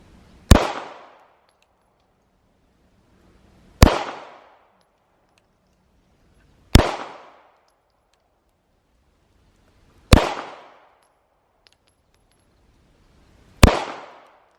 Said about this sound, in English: Still shooting fast.